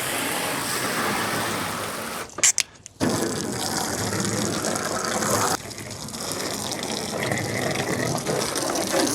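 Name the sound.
water splashed onto a van to test for leaks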